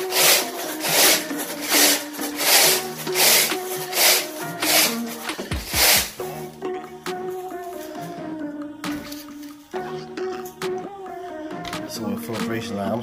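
Metal carpet rake teeth drag and tear through carpet in a run of loud, rhythmic scraping strokes, close up and rasping, with a brief burst of harder ripping near the middle.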